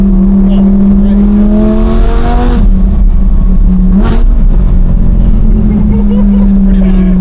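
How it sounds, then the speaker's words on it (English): A loud, close Audi R8 V10 engine pulls hard, its tone rising then dipping briefly at a shift before droning on steadily, while voices talk over it. "You hear the V10?"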